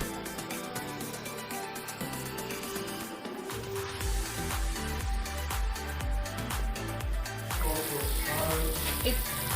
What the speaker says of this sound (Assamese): এতিয়া মই তাত পানী দি দিছোঁ।